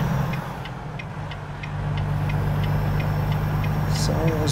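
A 2023 Volvo VNL truck engine idles in American Truck Simulator, a low steady hum with a faint regular ticking, growing slightly louder partway through.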